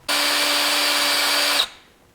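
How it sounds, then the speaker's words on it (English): Power drill boring a hole through PVC pipe, a single sustained high motor whine that starts abruptly, runs steadily for about a second and a half, then cuts off and spins down, close and loud with no talking. "very carefully, I'm going to drill a hole through this PVC pipe and all the way through to where I can stick a bolt to support it"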